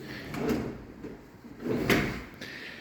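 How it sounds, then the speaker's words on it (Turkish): A drawer on special soft-close rails in a renovated apartment slides shut twice, giving two soft, muffled gliding thumps in a quiet room. "Çekmeceler, bavul çekmeceler yine rayları özel."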